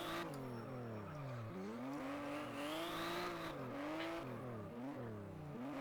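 A car drifting in the rFactor racing game, its engine revving and falling in pitch continuously as it slides, with tyre squeal mixed in, loud and steady throughout.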